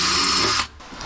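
Power drill running on a car part during a Mitsubishi Eclipse GSX power steering swap, a loud steady whine for about half a second that cuts off, followed by a brief faint clatter.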